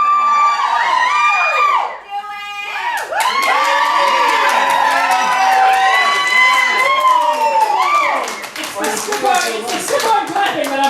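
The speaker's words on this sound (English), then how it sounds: "It's the simple clapping that I'm loving so much." Audience clapping and cheering at a burlesque show in a Richmond, Virginia gallery, a dense continuous wash of hands mixed with loud voices and shouts from the crowd throughout.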